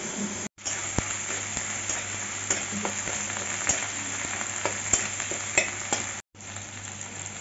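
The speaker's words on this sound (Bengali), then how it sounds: "জিরাটা ভাজা হয়ে গেছে, এখন আদা আর লঙ্কা বাটাটা দিয়ে দিচ্ছি।" Ginger and green chili paste fries in a pan of hot oil, producing a continuous dense sizzle with scattered spoon scrapes and pops. There are two brief dropouts to silence, and no voices are heard.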